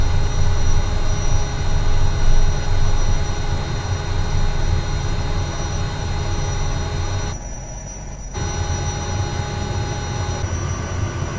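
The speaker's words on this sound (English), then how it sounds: "Bringing up the propeller RPM now" Kodiak turboprop in Microsoft Flight Simulator 2020 with propellers full forward and RPM building: a steady, loud engine drone and hum that holds throughout, with a brief dip in the high end partway through.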